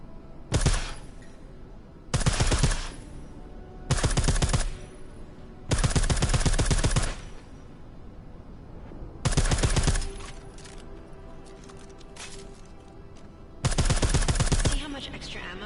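Silenced gunfire in the video game Deus Ex: Mankind Divided: six loud bursts of rapid suppressed shots, each lasting about a second, separated by short quieter pauses.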